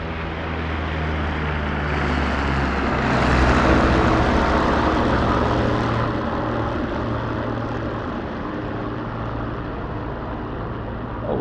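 Propeller-driven RAF aircraft in a flight simulator mission over the Litsa battlefield drone steadily with engine rumble, swelling briefly louder around the middle as one passes closer, then holding a continuous even hum with no talk.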